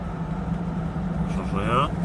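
A 1968 Buick Riviera engine, running rough during a cruise-control test, idles steadily and then revs upward, its pitch rising near the end; loud and close, with a constant low drone throughout.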